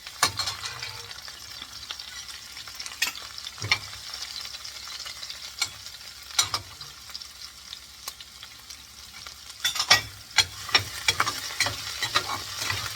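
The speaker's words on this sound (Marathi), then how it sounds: "चॉप गार्लिक आणि श्रेडेड जिंजर घालून थोडंसं फ्राय करायचं आहे" Chopped garlic and shredded ginger frying in a pan for malai matar paneer, a quiet steady sizzle punctuated by sharp spoon taps and scraping strokes, growing busier toward the end.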